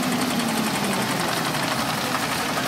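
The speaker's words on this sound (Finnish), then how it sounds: "Häkkisen Ilpo tulee tuolla Porsche Juniorilla ja Rainer Skundberg Merves IF:stä." A vintage Porsche Junior tractor drives past at a veteran machinery show, its engine giving a steady, fairly loud, rapid chugging drone throughout with no talk.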